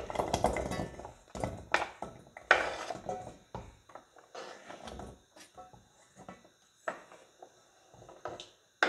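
Chopped carrots are dropped into a saucepan, clattering and clinking against the metal in a series of sharp knocks and scrapes with quieter pauses between.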